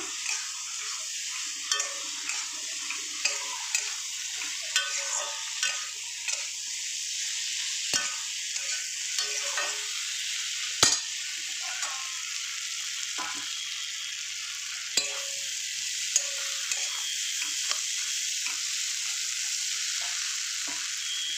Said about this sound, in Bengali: সেগুলোকে এবার ঢেলে দেবো, ভালো করে মিশিয়ে নেব